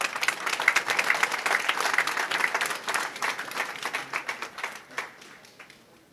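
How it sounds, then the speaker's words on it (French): Audience applause at a retirees' awards ceremony in Thiaroye, Senegal: dense rapid hand clapping from a crowd, steady at first and then thinning into scattered claps that fade toward the end, with no speech. "je demande un applaudissement"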